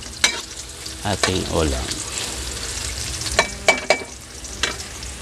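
Ginger frying in a pan, browning to golden for a chicken liver dish. Sizzling runs throughout, broken by several sharp stirring scrapes and clatters, with a brief spoken phrase.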